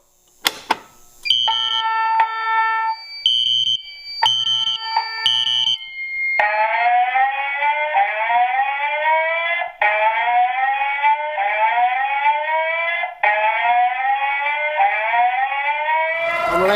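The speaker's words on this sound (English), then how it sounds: "Let's go ahead and pull the alarm." A building fire alarm sounds after being pulled in a building emptied of people. It opens with several short electronic tone bursts, then settles into a loud, continuous, repeating sweeping whoop that carries on to the end, with no talk over it.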